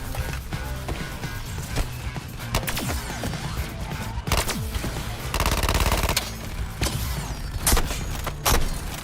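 Rapid video-game gunfire at a target, loud bursts of automatic shots and single cracks repeating throughout over busy game sound.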